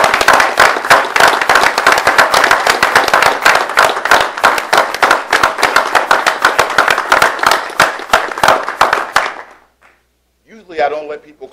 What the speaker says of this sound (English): I don't let people clap in the board meetings, but I think you deserve that